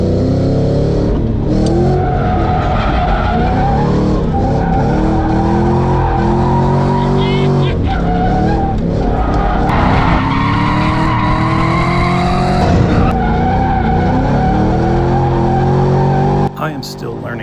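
Tires squeal and skid continuously as a drift car's engine roars and revs under load on a track, loud and close, with brief shifts in pitch as the car slides.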